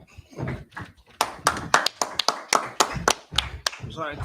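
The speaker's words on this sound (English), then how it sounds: "Clap it up." A church congregation at an Atlanta Sabbath service breaks into a round of steady, sharp hand claps, close and crisp, after a brief stretch of speech at the start.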